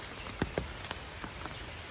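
Heavy rain pours in a constant soft wash, with a few distinct close drips or splashes landing over the first half.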